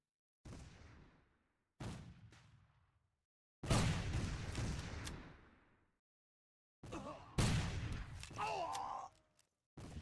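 Grenades burst one after another in a Civil War video game, several loud booming blasts with decaying rumbles separated by short silences, the last ones crowding close together.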